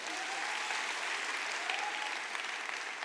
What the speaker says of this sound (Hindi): मेजर साहब के लिए जोरदार तालियां।